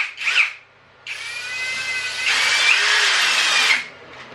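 A cordless drill drives screws into an RC4WD K10 scale crawler build with its clutch set. A short burst leads into a steady, close whir that grows louder and busier before stopping, with no talking.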